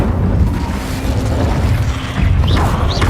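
Incendio fire spell going off in Hogwarts Legacy, a deep rumbling blast with crackling burst texture and a couple of brief rising whoosh tones near the end.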